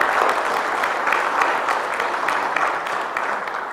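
Staff at a City of Philadelphia all-hands meeting clap together in a dense, even round of applause that holds steady throughout, close and fairly loud with no talk over it.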